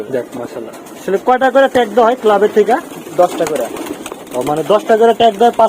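Pigeons coo at a pigeon loft, their repeated calls overlapping with someone talking close by.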